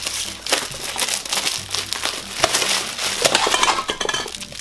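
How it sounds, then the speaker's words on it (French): A small plastic drinking glass cracks amid rustling packaging during a gift unboxing, with dense, close crinkling and crackling that runs continuously and loudly with no speech. "J'ai brisé un des petits verres"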